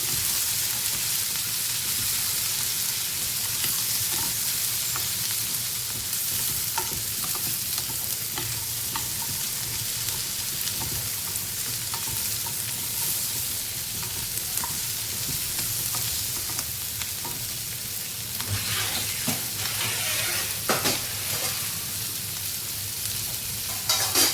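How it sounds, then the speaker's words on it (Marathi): Vegetables frying in a pan with spices and oregano for a quesadilla filling keep up a continuous hissing sizzle. Spoon stirs add occasional scrapes, with a brief louder rustle of stirring near the end and no speech. "आपल्या चवीप्रमाणे मसाले टाकायचे आहेत आपल्याला हलवून घेते"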